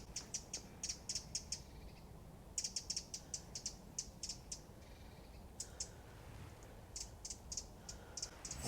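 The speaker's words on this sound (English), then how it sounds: "And also, there's a little wren." Rapid, rattling bursts of a small wren's song come in several trilling phrases separated by brief pauses, bright and fairly near over a low rumble of outdoor background.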